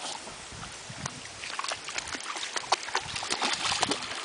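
Several dogs swim and splash in open water, with irregular close splashes and paddling that build in density toward the end, fairly faint overall.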